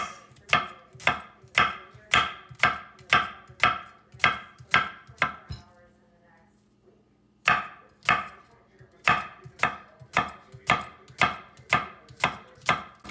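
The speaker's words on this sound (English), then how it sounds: "now we're going to cut our onions and garlic" Knife chopping onions and garlic on a cutting board, a steady run of sharp rhythmic chops that pauses briefly midway, then resumes at the same even pace, close and clear with no talk.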